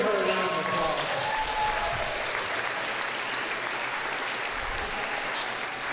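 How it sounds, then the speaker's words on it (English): An audience at an annual school achievement day ceremony claps in steady, dense applause that fills the whole stretch, with a voice briefly audible at the start. "Let's give her a round of applause."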